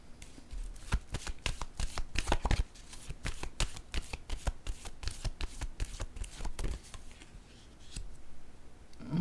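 Tarot cards are shuffled by hand in repeated crisp riffles and rapid flicking slaps, close and continuous for several seconds, easing off toward the end.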